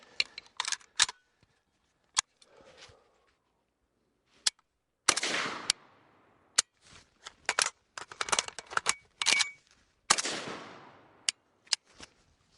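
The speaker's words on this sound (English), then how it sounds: "now let's try the reverse reload." A firearm magazine reverse reload, performed with the hand at the hip. Close, sharp metallic clicks and clacks arrive in irregular bursts, with a few longer rattling scrapes between quiet gaps and no talking.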